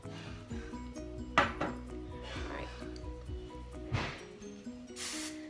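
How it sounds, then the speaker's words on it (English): Clanking pots, pans and dishes from a husband cooking dinner in a nearby kitchen, with scattered metallic clinks and knocks under steady talking in the foreground. "Sorry if y'all hear all the clanking in the background."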